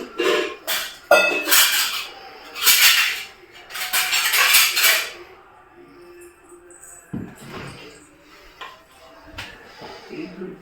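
A metal vada kadai frying pan handled in a home kitchen, giving loud metallic clanks and knocks in scattered clusters, with quieter rattles later, while people talk intermittently.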